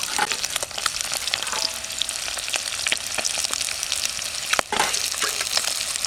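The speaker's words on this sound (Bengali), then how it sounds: "কত লাল লাল মাছ ভাজছি" Small tengra fish fry in hot oil in a pan, with continuous close-up sizzling broken by sharp crackles and pops and occasional stirring scrapes.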